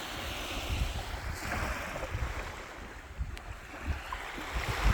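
Sea waves washing onto a shore piled with seaweed beside a breakwater, a steady broadband rush with surging swells, overlaid with wind noise and no talking.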